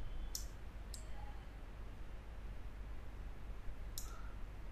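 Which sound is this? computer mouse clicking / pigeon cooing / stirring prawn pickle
computer mouse clicking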